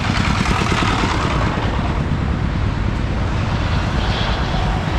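An airplane takes off from an airport near a road between Houayxay and Oudomxay, a broad roaring engine drone under steady wind rumble that stays loud throughout, with no talk.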